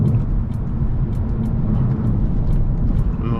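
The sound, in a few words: car being driven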